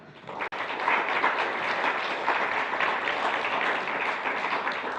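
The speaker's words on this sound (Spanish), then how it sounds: "Por favor, démosle un fuerte aplauso más." A church congregation at a united service breaks into sustained applause, a dense wash of clapping that holds steady at moderate level after a brief sharp tap at the start.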